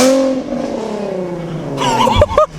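A Nissan 370Z fitted with a Tomei Ti exhaust revs loudly up close, its engine note falling away before a burst of sharper, rasping revs near the end.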